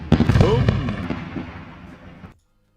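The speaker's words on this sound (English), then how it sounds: "Time for the explosion." Explosion sound effect: a sharp opening blast followed by crackling, popping bursts that rumble and fade over about two seconds before cutting to silence.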